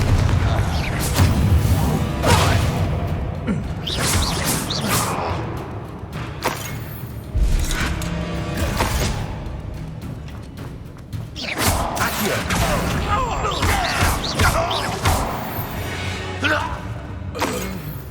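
Confringo fire spell blasts in the Hogwarts Legacy video game, booming explosions and thuds amid constant combat noise and shattering, loud and dense, with game voices speaking over the fight.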